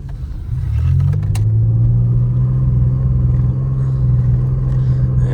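Supercharged, lowered Pontiac 6000 wagon engine idling after starting up, a loud, close, low droning rumble that settles into a steady, slightly uneven hum.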